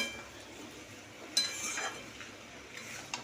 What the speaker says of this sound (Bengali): চিংড়ি মাছটা দিয়ে এখন নাড়ছি